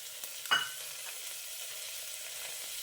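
Onions and tomato frying in a pan while being stirred, a soft continuous sizzle with one brief scrape of the spoon near the start.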